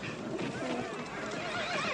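A horse whinnies in a shrill, wavering call, with faint hoof clops and a murmur of voices in the background.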